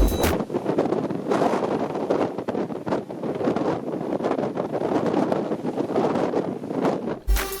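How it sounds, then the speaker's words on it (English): Strong wind at sea on a cruise ship deck roars steadily against the microphone in loud, gusty buffeting, with no voices heard. "It's windy and a little bumpy."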